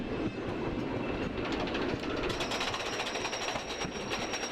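Steady mechanical clanking and rumbling of a roller coaster chain lift hill in Planet Coaster, using Outlaw Run's lift hill audio, continuous and fairly loud with rhythmic clicks.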